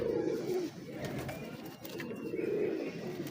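French big breeder high-flyer pigeons from an original 50-year-old line coo in two soft, throaty phrases, one at the start and one near the end, over a steady background murmur.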